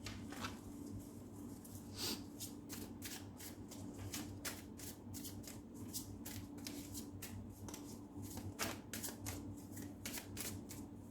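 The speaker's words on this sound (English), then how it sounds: "I'll be taking out 6 cards from the Morgan Greer Tarot" Morgan Greer tarot cards shuffled and handled close up, a quiet run of rapid papery riffles and flicks in a steady rhythm, with no talking.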